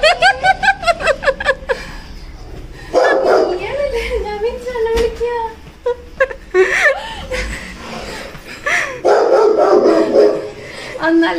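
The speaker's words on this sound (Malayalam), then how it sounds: "എടാ കുരയ്ക്കാതെടാ." A dog barks in a quick series of loud, close barks at the start, then people talk and laugh over it while a few more barks break through.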